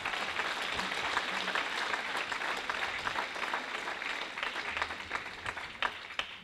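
Applause at an official opening ceremony welcoming a managing director, a fairly quiet, even patter of many hands clapping, slightly distant, continuing throughout.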